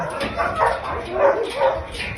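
A dog, a female rescue with a wound on her chest, makes soft yips and whimpering barks in a few short bursts, close by, with faint talk in the background.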